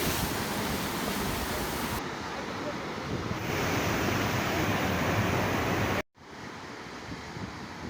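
A cold mountain waterfall where children bathe pours in a loud, continuous roar of rushing water close by, broken by a brief dropout near the end before the steady wash resumes.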